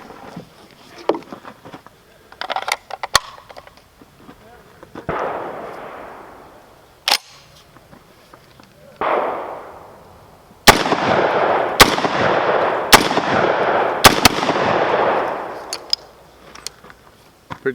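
Shotgun blasts from a Rock Island Arsenal VR-80 AR-15-style shotgun firing high-brass 2 3/4 inch number 6 birdshot from a five-round magazine: a few sharp reports, then a rapid string of loud shots with long ringing decays.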